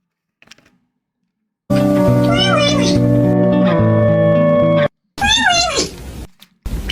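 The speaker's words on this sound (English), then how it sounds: "Jay just meowed like she just meowed at the same pitch." A pet cat named Jay meows during a small-business work stream, the call overlapping loud sustained music and voices, with a second rising cry breaking through a moment later.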